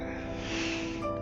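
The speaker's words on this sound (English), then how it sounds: "I thought yawning was contagious." A single long, breathy yawn from a person who has just woken up, voiced and drawn out for about a second, close and fairly soft.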